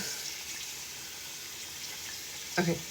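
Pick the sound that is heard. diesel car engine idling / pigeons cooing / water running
water running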